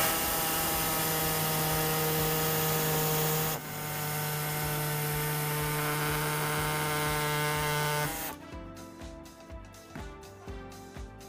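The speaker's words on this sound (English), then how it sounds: "For us here, we do have our air saw, so we'll be using that to do it today." A pneumatic air saw cuts through the plastic front bumper fascia of a 2016 Ram 1500, a loud sustained buzzing whine that shifts pitch midway, then stops and gives way to scattered clicks and handling noises.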